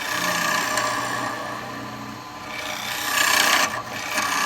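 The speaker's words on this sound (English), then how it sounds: "I can't help it, I love my spindle gouges." A spindle gouge cuts wood on a lathe with a steady, close rasping and shaving hiss that swells and eases as the tool moves along the spinning piece, with no voices.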